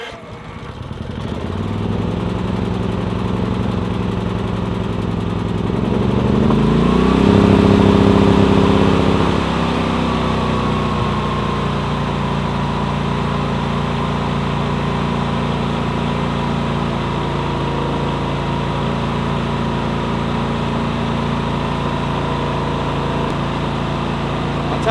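A Predator 9500 inverter generator engine starts on choke and settles into a steady running drone, with a brief surge in the first seconds before holding an even, loud hum.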